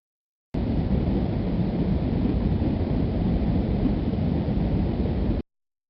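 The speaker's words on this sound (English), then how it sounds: "Hail." A hail storm, a dense, loud and steady broadband roar of pelting ice that starts and stops abruptly, lasting about five seconds with no voices.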